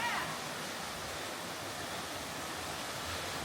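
A waterfall at a swimming hole in the Ozark National Forest roars as a constant, dense wash of white noise, close by and steady throughout.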